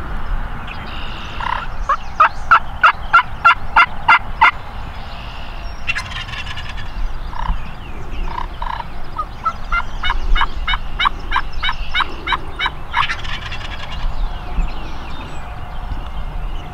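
A wild turkey gobbles in the Pennsylvania spring woods, heard as repeated bursts of rapid rattling calls at moderate distance, some runs rising and falling, over a steady outdoor background with no talk.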